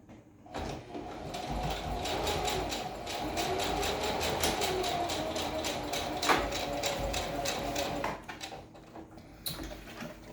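A sewing machine stitching the end of a homemade fabric mask: a close, steady rapid mechanical whir lasting several seconds, starting and stopping abruptly, with a faint click near the end.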